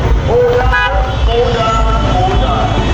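Car horns honk repeatedly in a school anniversary motorcade in Old Harbour, Jamaica, short close toots and longer blasts overlapping amid road noise, with voices in the background.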